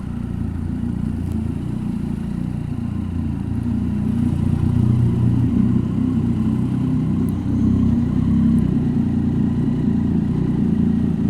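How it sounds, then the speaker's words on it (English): A motorcycle engine runs steadily and loud throughout as the bike is brought in to park after a ride, a constant low rumble with mild variation in level and no voices. "Let's park the bike."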